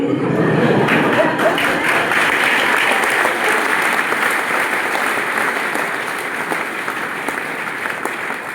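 Crowd clapping loudly and continuously at a gathering, a thick close wash of many hands that stays strong and tapers only slightly toward the end.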